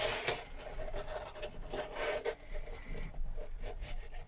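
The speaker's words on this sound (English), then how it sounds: "Creates a lot of dust, all that sanding." Filler on a boat is sanded by hand, a close, steady rasping scrub with rhythmic back-and-forth strokes that continues throughout, with no voices.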